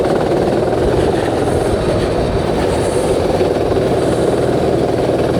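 A racing kart engine drones steadily on an outdoor track, a loud, continuous buzzing roar with no breaks, close and unvaried throughout.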